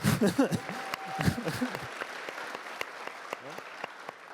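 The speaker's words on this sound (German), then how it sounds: "Und auch einen großen Applaus." An audience applauds during a Q&A session with startup founders, with voices at the start and steady clapping that continues at moderate level.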